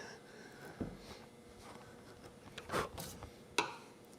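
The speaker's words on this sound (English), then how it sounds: "Just a sweeping, sharp chisel, these light sweeping cuts." Sharp chisel taking light, skewed sweeping cuts across wood while shaping a hand-made table leg, heard as a few soft scraping strokes and brief crisp shaving bursts, close and fairly quiet.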